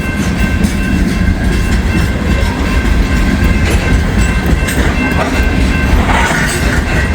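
A loaded coal train rolling past on the tracks close by, a loud continuous rumble with steady wheel clatter throughout.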